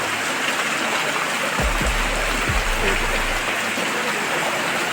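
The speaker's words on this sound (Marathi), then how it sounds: "तर पाऊस सुरू झाला आहे जोरदार" Steady, dense hiss of heavy rain pouring down without a break, with a few low thumps partway through.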